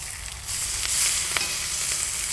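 Wagyu smashburgers flipped on a hot plancha over an SNS kettle grill give off a loud, steady, close sizzle, with a few brief scrapes and clicks as the patties turn.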